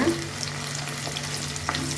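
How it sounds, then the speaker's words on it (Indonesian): Shallots, garlic, tomato and green chili frying in oil for sambal jengkol, a steady close sizzle with light stirring throughout. "Ini kita goreng asal layu aja."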